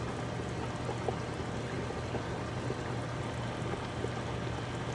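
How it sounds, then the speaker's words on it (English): Onions and garlic poured into a cooking pot while making roast beef, giving a steady, even rushing hiss that holds for about five seconds with no voices. "we're gonna be pouring the onions and garlic all in there"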